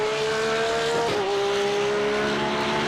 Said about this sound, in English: Beautiful noise of that car.